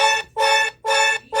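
Goku drip emergency alert alarm: three loud, rich harmonic tones of about a third of a second each, separated by short gaps, with a fourth starting at the end. No voices.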